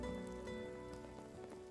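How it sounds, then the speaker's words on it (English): Steady rain patters down in the video game Final Fantasy VII Remake, a constant wash of drops running the whole time beneath sustained tonal background sound. "Just enjoy the rain."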